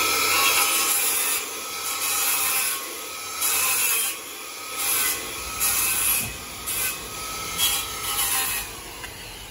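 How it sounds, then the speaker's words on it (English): A hand saw cuts through wooden deck posts to trim them level with the top of the joist, making a run of rhythmic rasping strokes, close and loud, with no talking. "I just take my saw and trim it just like this"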